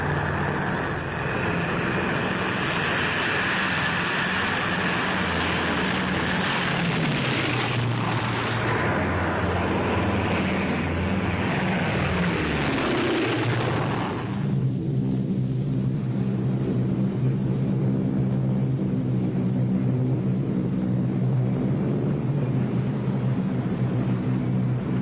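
B-24 bomber engines drone in flight with a steady, loud propeller roar that shifts in tone midway, settling into a lower, even hum.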